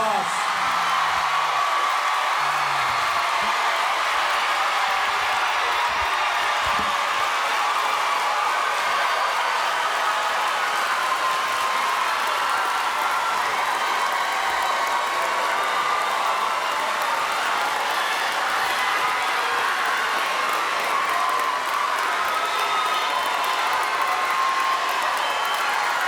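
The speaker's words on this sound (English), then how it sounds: "Let's give them all a big round of applause." A graduation audience applauds the class of 2025 with sustained clapping, cheering and occasional whoops, a wide, steady crowd roar lasting well over twenty seconds, with a voice briefly heard at the start.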